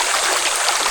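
Clear river water rushes and gurgles steadily beneath a hut on the Mayton River among rock formations, a close, continuous hiss of flowing water with no voices.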